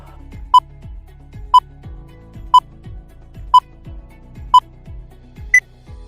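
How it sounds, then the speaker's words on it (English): Quiz countdown timer for an art-elements question, a steady series of six sharp electronic beeps spaced one second apart, with a soft ticking pulse between them and the last beep slightly higher in pitch. "Timer starts now."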